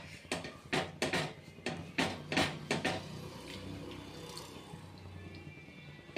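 Water is dabbed by hand onto a jowar bhakri as it cooks, producing a quick series of wet pats and splashes at first that ease into a softer, lingering watery hiss.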